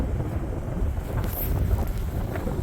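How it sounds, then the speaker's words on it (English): Strong wind gusts buffet the microphone outdoors at a site where a compact excavator and a skid steer are being repaired, making a loud, continuous rumbling roar with no voices. "It's too windy today."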